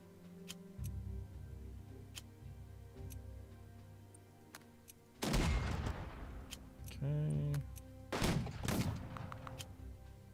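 Unit attack gunfire in the wartime strategy game Unity of Command II, several sharp shots and bursts with rumbling tails over faint ticking, fairly loud and near, alongside other game effects.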